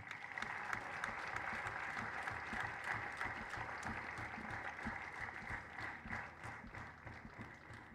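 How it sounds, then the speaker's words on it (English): Audience at a political party awards ceremony and conference applauding an honoree, steady sustained clapping of a sizeable crowd that carries on evenly for the full eight seconds, slightly distant. "Please, let's say your applause for Simeon Belgrave."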